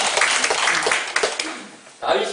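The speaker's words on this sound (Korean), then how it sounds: "우리 박수 한번 쳐드릴까요?" A church congregation claps briefly during a Bible quiz, a short burst of applause with a few distinct claps, dipping before a final flurry.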